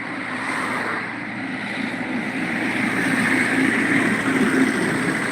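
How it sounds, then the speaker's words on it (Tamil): A tractor engine runs steadily near rice paddy fields, a continuous low rumble that grows slightly louder over a few seconds, with no talk over it. "டிராக்டர்"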